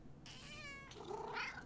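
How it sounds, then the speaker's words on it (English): A pet cat in the horror video game Demonologist gives a short, clear meow followed by a second rising mew. Both calls are close and alone, with no talk over them. "And I got the pet cat."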